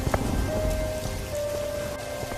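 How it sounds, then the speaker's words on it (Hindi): Heavy rain in a cold-weather cartoon story pours steadily, a dense, continuous hiss of drops spattering on surfaces with a few louder splashes, close and unbroken. "इतना कहकर लखन उस तेज बारिश में घर के लिए चल पड़ता है।"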